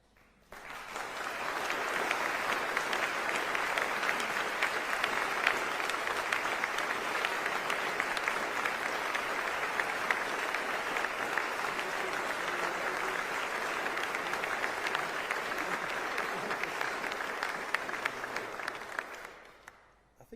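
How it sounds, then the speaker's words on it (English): Sustained applause from an audience at a political speech by the Mayor of Greater Manchester, steady dense clapping that swells in, holds evenly for about eighteen seconds and fades out at the end. "I even saw the Mayor of Liverpool clapping at that."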